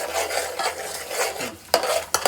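Onion masala paste for Hyderabadi-style chicken is stirred and roasted in a pan, giving a steady soft sizzle under repeated scraping strokes, with a couple of sharper clinks of the spoon near the end.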